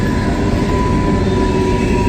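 An empty Norfolk Southern coal train of black hoppers rolls past close by, a loud continuous rumble and steel rattle with a steady tonal whine and no break.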